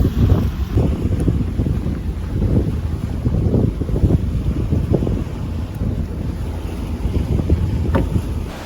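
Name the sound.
sailboat motoring under engine power at sea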